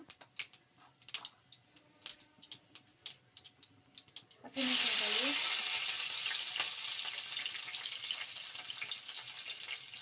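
Chana dal and urad dal drop into hot oil for a dosa chutney tempering, bursting into a loud, steady sizzle after a few faint clicks and taps, then fading slightly as it continues.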